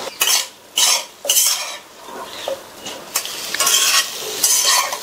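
Spiced vegetables with chili powder, turmeric and salt being stirred in a frying pan, the spoon scraping and clinking against metal in repeated bursts over a soft sizzle, close and fairly loud with no talking.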